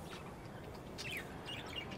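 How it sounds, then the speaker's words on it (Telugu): Small birds chirp faintly in a terrace garden, with a few brief high tweets over soft outdoor background noise. "అండ్ ఇక్కడ ఇప్పుడే బర్డ్స్ స్టార్ట్ అయ్యాయి"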